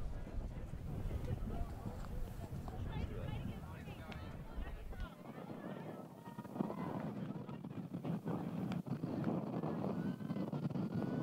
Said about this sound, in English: wind coming straight into the camera, straight towards us